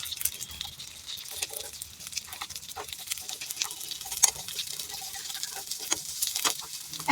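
Stuffed leaves fry in a pan with a soft, continuous sizzle and scattered pops and crackles, close and fairly quiet with no talk.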